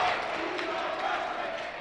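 Crowd at a boys' high school basketball game roaring in a dense, sustained wash of cheering that holds loud for the whole moment and eases slightly at the end.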